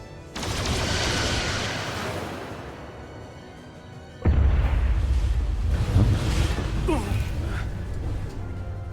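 Rumbling explosive blasts in Star Trek: Resurgence, a hissing roar fading out before a sudden deep boom and continued crackling rumble.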